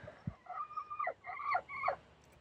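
Several short clucking calls from a bird in close succession, moderately loud against a quiet outdoor background.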